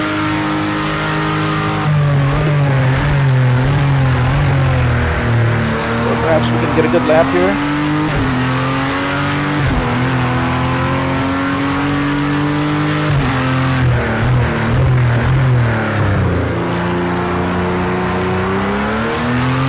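A race car engine revs hard and shifts through gears on track during a shakedown before the 2019 24 Hours of Daytona, loud and close with rising and falling pitch, while a driver talks over it.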